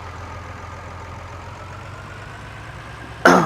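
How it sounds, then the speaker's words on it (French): A tractor pulling a hoe weeder in Farming Simulator 19 idles with a low, steady engine rumble and a constant mid-range hum, then a sudden louder burst cuts in during the last quarter second. "On va aller chercher le tracteur qui est là-bas."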